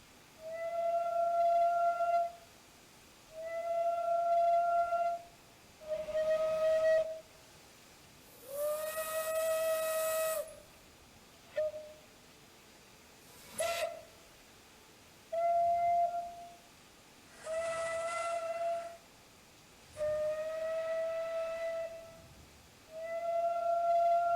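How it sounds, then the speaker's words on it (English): Simulated GCR class 9N steam locomotive whistles in Train Simulator 2019 sound in about ten separate blasts and combinations, some long and some short, with bursts of steam hiss between them and no talk. "When we press the B button, we get a combination of several different whistles."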